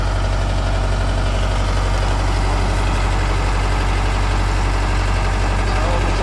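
The separate engine of a tractor-driven farm machine idles loud and close in a steady low drone with constant vibration, and people talk over it.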